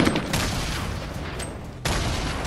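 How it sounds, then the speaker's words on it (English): Explosions and rapid gunfire from a Fortnite Battle Royale match, a dense loud burst of blasts that holds for over a second, cuts off sharply, then erupts again. "Grenade launchers are scary."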